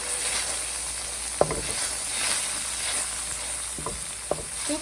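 Spices and salt sautéing in a pan over a low to medium flame while cooking Indian chicken tikka masala, giving a steady soft sizzle with a few sharp knocks from stirring.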